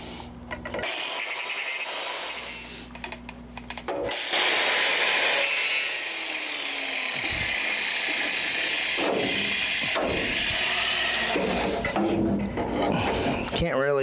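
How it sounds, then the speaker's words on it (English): Angle grinder with a cutoff wheel slicing through weld tacks on the steel frame rails of a 1934 Ford Coupe hot rod, a loud sustained whine with brief pauses between cuts, up close. "I'm gonna swap out my flap disc for a cutoff wheel, cut these tacks at the edges of the frame rails"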